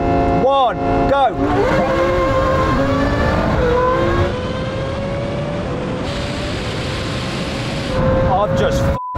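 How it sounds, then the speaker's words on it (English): A Lamborghini and a Nissan GT-R NISMO in a rolling second-gear drag race from around 50, engines roaring loudly as they accelerate hard together, rising in pitch through a long pull with a gear change, while voices shout over the noise. "Now we can have a rolling race in second gear from around 50."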